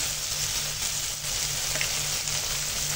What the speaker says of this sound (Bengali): এখন আদা রসুন বাটা দিয়ে দিলাম।